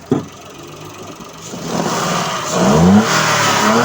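Toyota Wigo engine revving up after spark plug and ignition coil work for a check engine light, a sharp click then a rising rev that builds and holds loud and close, with no talking.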